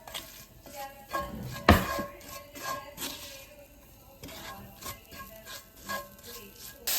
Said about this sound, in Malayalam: പെരട്ടുക.